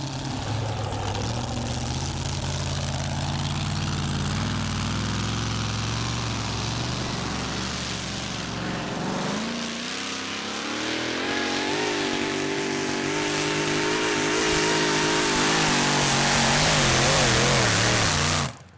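A loud, heavy pulling tractor's modified engine idles with a rough low throb at a tractor pulling event, then revs up and holds a strained, roaring drone before cutting off abruptly.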